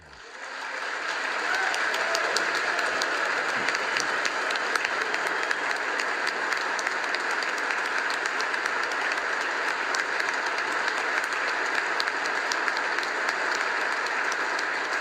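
Sustained applause from lawmakers in the chamber of the U.S. Congress for Zelensky, a thick, even roar of many hands clapping that swells in quickly and holds steady for the whole stretch.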